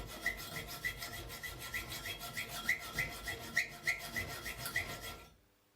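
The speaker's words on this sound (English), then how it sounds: "You can cut the iron bars by using an angle joint as guide for the saw" A hand saw rasps steadily through an iron bar, guided along an angle bracket, its quick back-and-forth strokes repeating in an even rhythm for several seconds before stopping abruptly.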